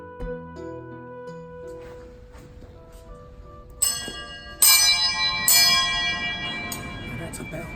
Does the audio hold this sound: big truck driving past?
no